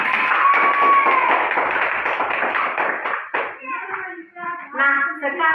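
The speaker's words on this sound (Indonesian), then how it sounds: "Tepuk tangan." A class of students in an Indonesian classroom claps hands together in a loud, dense burst, then young voices ring out in a short chanted or sung phrase, everything close and lively.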